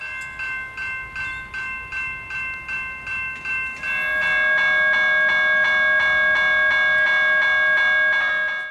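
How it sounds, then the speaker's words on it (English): Unadjusted General Signals Type 1 electronic bells at a Victorian railway crossing ring in a fast, regular pulse, fuzzy and oddly pitched, first with gaps between strikes and then as a louder continuous clang. "The reason they sound unusually fuzzy, loud, and oddly pitched is because they are unadjusted General Signals Type 1 e-bells."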